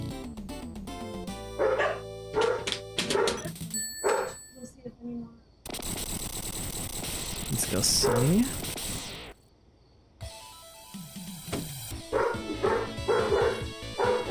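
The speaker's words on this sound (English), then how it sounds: "sorry about the barking. They're just celebrating right now." Several indoor dogs bark, yip and whimper in excited bursts, close and loud, over electronic video game music, and someone briefly speaks.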